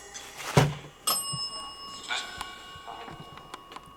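A bell rings inside a reputedly haunted house theater, a few sharp bright dings spaced unevenly with quieter clinks and room noise between them.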